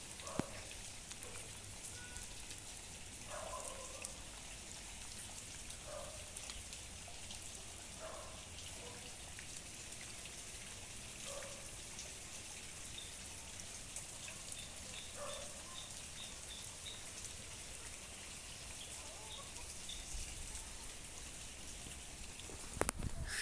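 Heavy rain pouring onto saturated ground during intense storms in Minas Gerais, a dense, steady hiss of drops that runs unbroken throughout at a fairly quiet, even level, with no one speaking.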